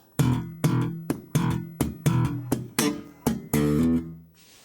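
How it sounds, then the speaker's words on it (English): Punchy bass guitar hammer-on notes played in a steady rhythmic pattern, each a sharp attack with ringing low tones, close and loud with no talking. "now we've got a hammer on"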